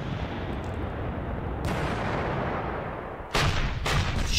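Heavy guns fire in the Panzer Campaigns Stalingrad '42 wargame: a dense, continuous rumble of distant gunfire, then two sharp, loud reports near the end, with no voices.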